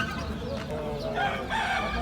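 A rooster crows at the Osmaniye chicken market, a short strained call rising over a busy backdrop of other fowl clucking and crowd murmur.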